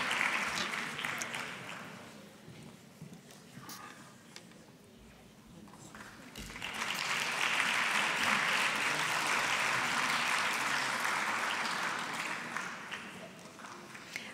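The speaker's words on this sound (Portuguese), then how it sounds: "Um aplauso para Isabel Azevedo" Audience applause for Isabel Azevedo at a dental professional oath ceremony in Lisbon: clapping fades to a lull after two seconds, then rises into a loud, sustained ovation from about seven seconds that tapers near the end.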